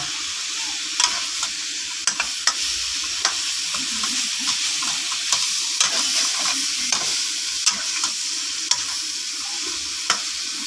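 Spicy wild boar meat is stir-fried in a hot pan with a constant loud sizzle, punctuated by frequent sharp scraping clicks of a spatula tossing the meat in an irregular rhythm, close by.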